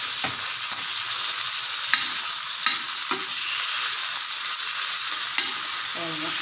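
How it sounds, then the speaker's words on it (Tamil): Fish frying in a pan over a low flame, with a steady, even sizzle of oil and occasional light clicks of a spatula, close and continuous throughout. "இப்படியே வச்சு வறுத்து வறுத்திங்கன்னா நல்லா முறுமுறுன்னு சூப்பராக வறுத்தரலாம்."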